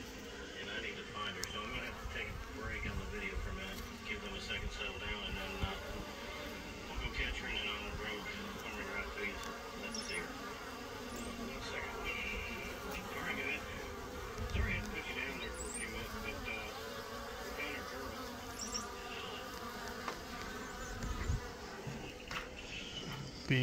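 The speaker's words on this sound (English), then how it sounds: "The bees are bringing back stuff to eat." Steady buzzing of many honeybees at a hive fills the air, a dense, continuous hum at moderate volume with faint background murmur.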